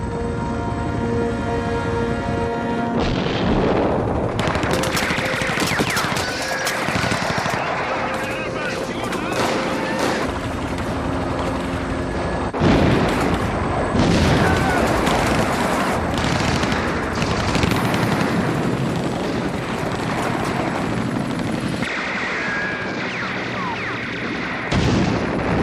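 Helicopter attack in a James Bond film, with loud bursts of machine-gun fire, booms and explosions. The gunfire comes dense and sustained over about 25 seconds, and people shout and talk under the din.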